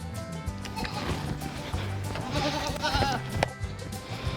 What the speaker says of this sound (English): So this is 31 baby goats we have here.